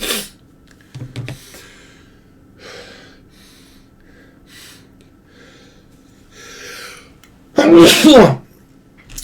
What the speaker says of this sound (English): There's sneeze 1.